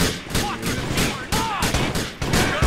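Repeated gunshots from a poor-quality firearm in GTA 4 The Lost and Damned, loud sharp bursts firing in a rapid irregular rhythm, with a voice talking over them.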